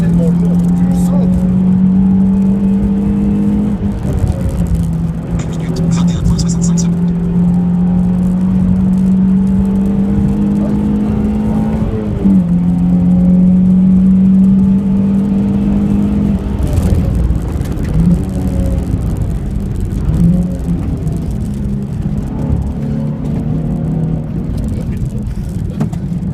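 A heavy Nissan 350Z with an aftermarket exhaust driven on the wet Lohéac track in January, heard from inside: a continuous loud engine drone rising and falling through gear changes, with people talking over it.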